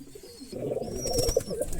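Soft, low cooing from a Girebaz pigeon, a few murmuring coos close by over a quiet background with faint chirps.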